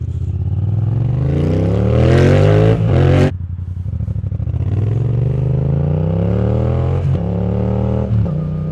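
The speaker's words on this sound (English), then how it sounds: "there's like an induction sound now, and it sounds really, really good" Motorcycle engine on a new bike while riding, with a loud, close drone that rises in pitch through two acceleration runs, drops sharply at a gear change, and climbs again with brief dips at later shifts.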